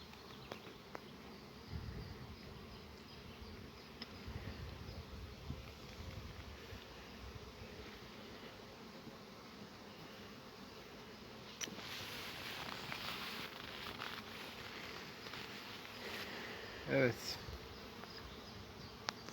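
Honeybees hum and buzz steadily around an open hive during an inspection, a dense close swarm drone that swells louder in the second half, with a brief louder knock near the end.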